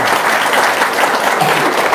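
Short burst of dense audience applause, loud and even from start to finish with no pause.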